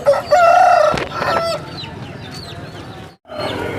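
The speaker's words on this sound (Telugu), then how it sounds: "పుంజులు అయితే వచ్చాయి" Several roosters crow at the Boddam rural Sunday market in Vepada mandal, Vizianagaram district, Andhra Pradesh, where country chickens are sold. The long crows come loud and close, overlapping at first, then fade into a quieter stretch before another call starts.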